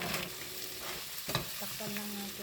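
Garlic, ginger, carrots and a seafood cocktail mix are sautéed for a seafood sotanghon soup, a close, even sizzle with a few scraping stirs and light utensil knocks.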